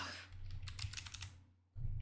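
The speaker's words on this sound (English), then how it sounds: "I'm just typing anything at this point." Quick keyboard typing on a computer, a dense run of small clicks for about a second and a half, close and fairly quiet, then a short louder burst at the end.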